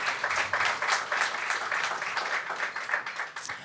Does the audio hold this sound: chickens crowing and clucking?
no